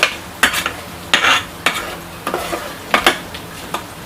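Onions lightly frying in a pan: a soft sizzle beneath repeated scraping strokes of a spatula in an uneven rhythm, close and fairly loud, with no voices.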